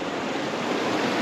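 A swollen mountain stream in the Eastern Arenigs of Wales rushes after heavy rain, its water covering the usual stepping stones. The torrent makes a loud, steady broadband roar close by, with no voices.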